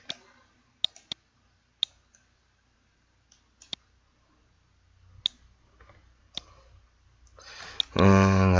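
Sharp computer mouse clicks come in quick pairs and singles, spaced apart in a quiet room during 3D modeling software work, ending in a burst of louder noise.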